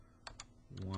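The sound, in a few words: typing answers on a computer keyboard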